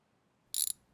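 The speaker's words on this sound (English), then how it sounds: "Spark plug wrench?" A spark plug wrench on a diesel engine gives a short, sharp burst of quick metallic ratchet clicks, close and bright, lasting about a fifth of a second against near silence.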